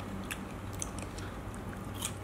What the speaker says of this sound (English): Look how crisp the skin is. Ah, did you hear the sound?